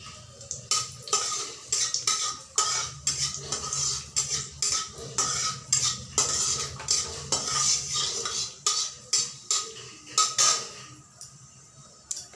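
Dried red chili dropped into a hot pan for a bottle gourd and prawn dish, with a metal spatula scraping and clinking in a steady, repeated stirring rhythm over a faint sizzle; no talking.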